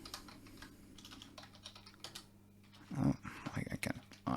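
Fast, uneven clatter of typing on a computer keyboard, with brief pauses between bursts and a short spoken exclamation partway through, close and fairly quiet.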